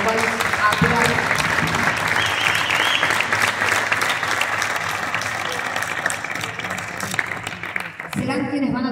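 An audience applauds at an event, dense steady clapping filling most of the stretch before it tapers off and a voice resumes at the end.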